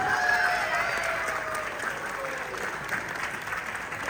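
An audience claps steadily at an Ugadi celebration hosted by a Telugu association in Malaysia, dense applause that tapers slightly, with faint voices and tonal sounds in the room.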